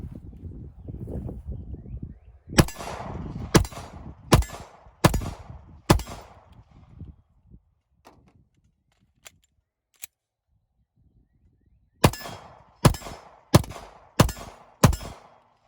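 PSA Dagger 9 pistol fired at a range, two strings of five sharp, loud shots spaced about a second apart, separated by a quiet pause with a couple of faint clicks; handling noise precedes the first string.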